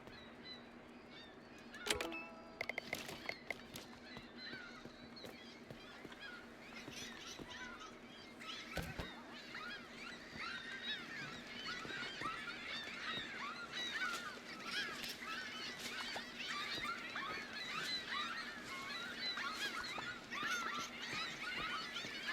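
Seagulls calling in the game Waterpark Simulator, a steady chorus of overlapping squawks and cries at moderate distance, continuous throughout against a faint ambient hum.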